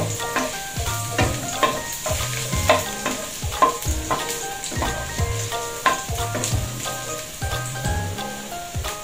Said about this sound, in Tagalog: Sangkutsan naman natin.